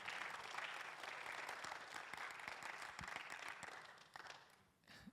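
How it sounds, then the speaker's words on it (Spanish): A church congregation applauds the Lord in a steady, dense wash of clapping that fills the room, then thins out and fades toward the end. "Give a lot of applause to the Lord."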